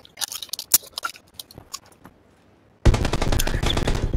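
Gunfire in the battle royale game PUBG: a spaced run of sharp shots that gives way to a loud, sustained burst of rapid automatic fire.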